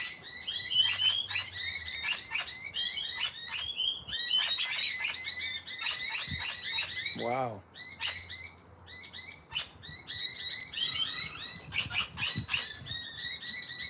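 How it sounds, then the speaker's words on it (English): Rainbow lorikeets screeching and chattering in a noisy flock, rapid overlapping shrill calls close by, with a brief whistling call midway and a person murmuring a short exclamation. "That's why we've got some commotion here. The rainbow lorikeets"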